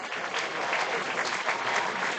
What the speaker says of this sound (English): An ovation here from the crowd.